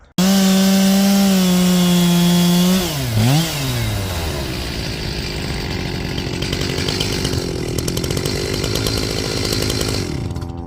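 A chainsaw drones loudly at a steady pitch, then bogs down and dips as it bites into a log, continuing with a rough, grinding cutting sound.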